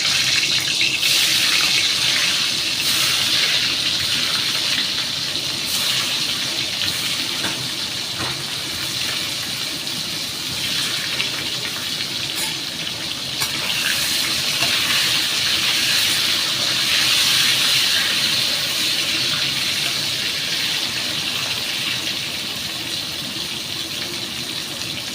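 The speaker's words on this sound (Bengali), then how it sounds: "তেল গরম হয়ে গেছে, আমি এক এক করে পটল ছেড়ে দিচ্ছি।" Pointed gourd (potol) pieces sizzling in hot oil in a home kitchen, a steady loud hiss and crackle that holds for the whole stretch with no talk.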